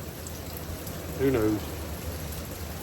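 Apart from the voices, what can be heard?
rain falling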